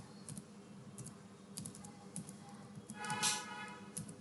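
Quiet keystrokes on a computer keyboard as an employee ID is entered into a spreadsheet, a series of light irregular taps with a brief cluster near the end.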